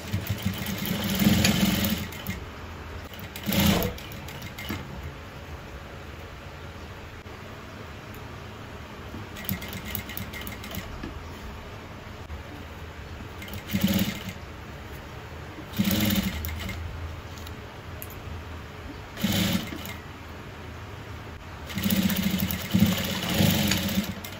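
Sewing machine stitching an Ankara fabric baby bib in several separate bursts, with pauses between runs and low background hum throughout.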